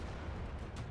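A tank gun fires in World of Tanks: a single heavy, loud boom with a rumbling blast that fills the whole moment.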